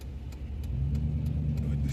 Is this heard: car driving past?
yes